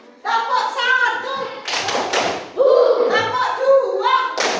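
Hand clapping from a classroom of children in short rhythmic bursts, loud and close, with spoken voices between the claps.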